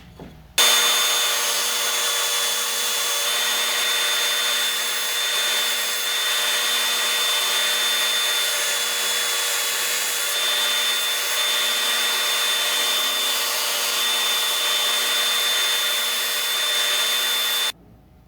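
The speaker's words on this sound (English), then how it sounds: "I've got a pretty coarse grit sandpaper on here, and it really only takes a couple of seconds to sand that down" A power sander fitted with coarse grit sandpaper shapes a wooden 7-inch minnow lure, running as one loud, continuous close-up grinding hiss for about seventeen seconds, starting and stopping abruptly.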